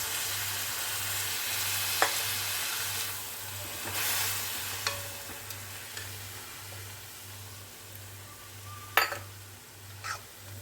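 Half a cup of milk poured into a pan of sautéed onions, a soft steady sizzle with a spoon stirring and occasional clinks of metal against the pan, fairly quiet and close, with no voices.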